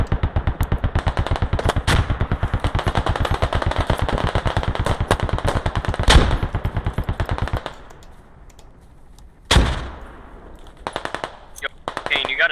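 Automatic rifle fire in the military shooter Squad during a full invasion round, rapid loud bursts that run steadily for several seconds, then a short gap, a sharp nearby blast and further scattered shots.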